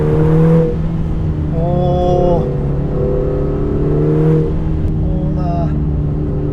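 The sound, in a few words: Lotus Emira 2.0 engine accelerating in track mode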